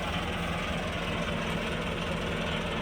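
A Massey Ferguson 385 tractor, stuck in a muddy field track, idles with a steady low diesel rumble and even throb, close and continuous with no break.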